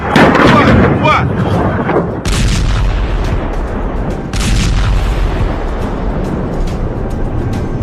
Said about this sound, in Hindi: खुर्रम शहर मिसाइल से निकले क्लस्टर बम जमीन पर क्या कोहराम मचाते हैं।